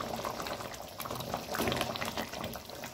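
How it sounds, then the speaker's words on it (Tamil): Punjabi-style chicken curry gravy bubbles in a pot as the oil separates, a close, continuous crackle of popping bubbles and simmering liquid with no talk over it. "எண்ணெய்லாம் லைட்டாக திரிஞ்சு வந்துட்டு நல்லா கொதிச்சுட்ருக்கு"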